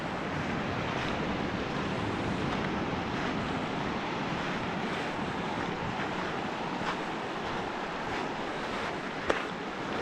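Waves washing onto an empty New Zealand beach, a steady close surf hiss mixed with wind buffeting the microphone.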